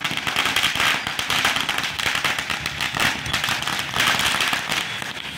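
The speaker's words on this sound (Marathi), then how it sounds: "शनी मंदिर परिसरात फटाके फोडून आणि पेढे भरून आनंद उत्सव साजरा केला आहे" At a Shani temple celebration, firecrackers burst in dense, rapid rolling strings of sharp cracks that stay loud throughout.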